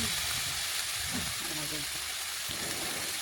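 Bitter gourd frying in ghee in a wok, giving a steady, even hiss and crackle that runs through the whole stretch without a break.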